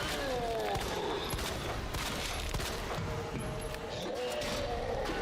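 Pistol shots aimed at Birkin in the Resident Evil 2 Remake boss fight, a string of sharp reports over a dense, rumbling battle din, with a voice talking throughout.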